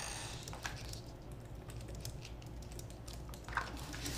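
A TruControl craft knife slices into vinyl while crafting a glitter tumbler, giving faint scratchy clicks and ticks over a steady low background hum, with a couple of sharper snaps near the start and end.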